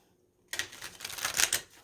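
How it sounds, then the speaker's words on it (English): Close, crisp rustle of tarot cards shuffled by hand, starting abruptly after a brief silence and riffling steadily for about a second. "let's give it one more shuffle."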